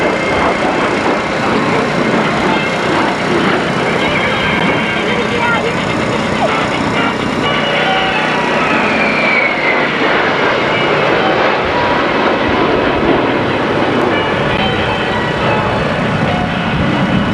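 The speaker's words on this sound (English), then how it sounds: "Thunderbird 6 is entering from your left in the inverted to inverted pass." A USAF Thunderbird jet makes an inverted pass at the 1986 Daytona Beach Skyfest air show, its engine a steady, loud broadband roar that persists throughout while an announcer talks over it.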